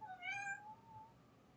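A cat gives a single rising-then-falling meow, faint and slightly distant, followed by quiet room tone.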